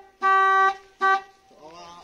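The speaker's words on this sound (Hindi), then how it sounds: "आप आवाज सुन ही सकते होंगे कि कितना बेसुरा सा हॉर्न बज रहा है" A faulty, out-of-tune horn on a 2020 BS6 Maruti Eeco honks twice, a long blare and then a shorter one, each a loud, discordant, buzzy tone, followed by a fainter wavering sound.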